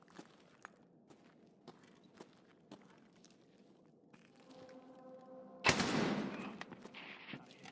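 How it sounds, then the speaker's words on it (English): A single loud, sharp shotgun blast in a video game erupts near the end, following several seconds of quiet, faint tapping footsteps and small clicks, with a lingering roar trailing after the shot. "He's using his shotgun."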